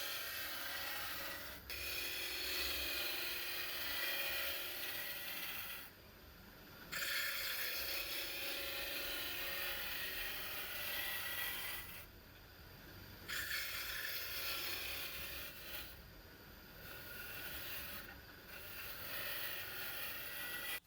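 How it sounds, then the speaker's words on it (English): Bowl gouge cutting the inside of a maple bowl turning on a wood lathe, a continuous rough scraping rasp broken by short pauses between cuts. "Just take nice cuts, and I'm using a bowl gouge."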